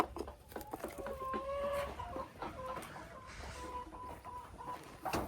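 Farm hens cluck in a series of close, rhythmic calls with short pauses between them, over an outdoor background and no speech.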